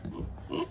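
Kunekune pig grunting close by on a farm, a few low, rough grunts running together in a short burst with a louder grunt near the end.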